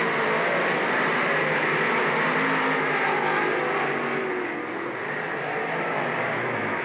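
Modified race cars roaring around the dirt oval at Lernerville Speedway, a loud continuous engine drone from several cars at speed with a slight dip and swell as they pass.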